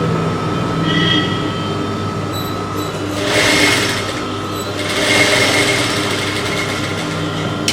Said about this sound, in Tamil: இப்படி தைக்கும்போது அடி துணியை கொஞ்சம் லைட்டாக எடுத்து வச்சுட்டு மேல் துணியை லூஸ் கொடுத்து தைக்கணும்